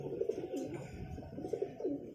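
A highflyer pigeon gives a run of soft, throaty coos in short repeated phrases, close but fairly quiet, with no other sound over it.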